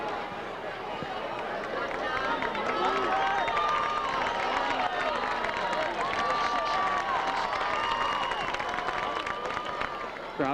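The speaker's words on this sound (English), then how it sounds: "Crowd trying to cheer him on." Crowd at a 1998 varsity high school football game between Wadsworth and Hudson cheers steadily throughout, a dense roar of voices with scattered clapping and talk mixed in.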